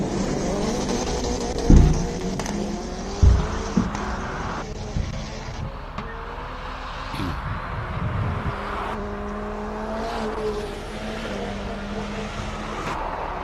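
Race cars at the Simola Hillclimb, an Alfa Romeo 4C and an Alfa Romeo Stelvio, rev and accelerate on the hill, engine notes rising and falling with a few sharp gear-change bursts, loud and close.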